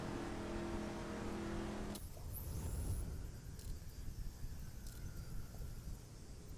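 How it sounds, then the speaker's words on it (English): A racing-game car in The Crew closing in from behind with a steady engine rumble, joined partway through by a brighter whoosh and a faint rising tone as it draws nearer. "This guy is coming up behind me with a pretty nice car."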